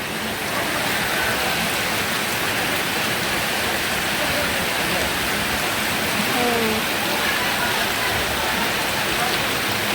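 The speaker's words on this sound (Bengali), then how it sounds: "ভালো বৃষ্টি হচ্ছে।" Heavy rain pours down steadily under a cloudy sky, a dense, loud, continuous hiss of countless drops striking surfaces that holds evenly throughout with no breaks.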